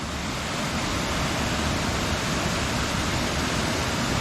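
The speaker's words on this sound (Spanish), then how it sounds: "Coronada por una cascada." A waterfall pours into the Olla del César pool in San Clemente, Córdoba, a steady, dense rush of falling water with no break throughout.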